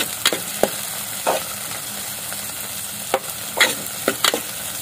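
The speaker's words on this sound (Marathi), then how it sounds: "टोमॅटो थोड़ा नरम होईपर्यंत परतायचा।" Tomatoes sauté in a pan under a steady, soft sizzle, while a spoon stirs and scrapes in sparse, sharp strokes close by.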